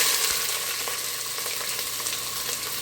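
Onions, celery and habanero pepper hiss in a very hot pot for beef stew, giving a loud, steady sizzle that fills the whole stretch with no talking.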